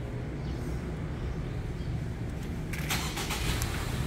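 A Ford Tourneo van engine is started remotely with a smart key, a quiet idle rumble under outdoor ambience, followed by a brief burst of crackling or clicking near the end.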